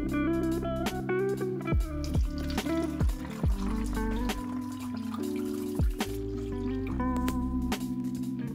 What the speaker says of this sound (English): I just had to look for a funnel to help me pour in the tea in the bottle